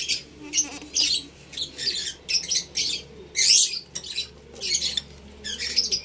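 African lovebirds in a nest box with eggs chirp and tweet in repeated short, bright bursts, fairly close and steady throughout, with no talking.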